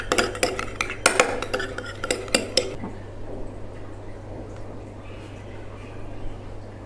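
A spoon scrapes and clinks quickly against a bowl while a skin whitening paste is mixed, in a burst of close, rhythmic taps that stops after a few seconds and leaves quiet room noise.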